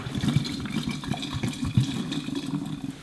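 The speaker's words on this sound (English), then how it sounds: "you can drain the hot water out of them because they will be hot." Hot water gurgles and splashes as it drains out of kombucha bottles during rebatching, a close, continuous pouring sound with uneven glugging pulses.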